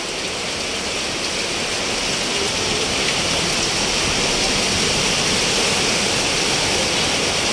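Heavy rain pours down steadily in Manikonda during a power outage, a dense, continuous roar of water with no pauses and no voices.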